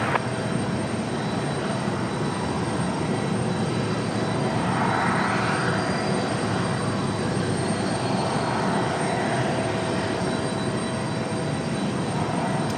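After takeoff from Raleigh-Durham, a Frontier Airlines jet roars past, the engine sound sustained and fairly loud, swelling slightly midway before holding steady.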